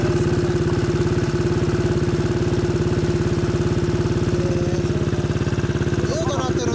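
A 2013 Yamaha Cygnus X scooter fitted with a Bumblebee muffler idles close by, its loud, steady, even exhaust pulse throbbing throughout, with faint voices near the end.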